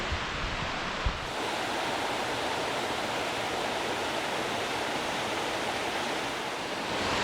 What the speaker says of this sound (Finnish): Tässä on nyt paikka, jossa vuorilta virtaa vettä siten, että se haarautuu kahtia ja muodostaa 2 eri vesiputousta.